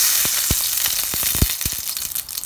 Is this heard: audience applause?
no